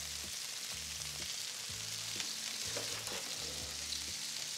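Pancetta crisps in a hot pan with a steady close sizzle and crackle, interrupted by periodic stirring scrapes, moderately loud, no speech.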